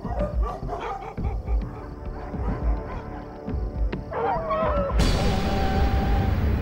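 Several dogs bark in a busy outdoor scene with overlapping yelps and honking fowl-like calls, and the noise grows denser and louder toward the end.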